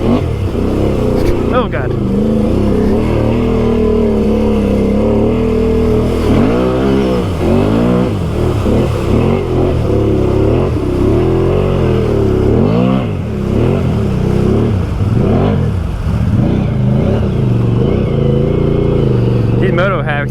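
An engine-swapped 850 Can-Am Outlander XMR 2020 ATV revs hard and loud, its pitch climbing and dropping in repeated surges across the whole stretch, with a person talking over it now and then.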